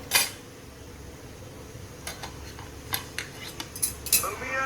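A steamed Himachali siddu is cut with a knife or cutter on a plate, giving a few light metallic clinks and taps at an uneven pace over a quiet room hum.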